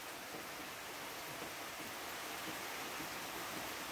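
Rain falls steadily in a rural rice-farming setting, a faint, even hiss with no breaks or other sounds.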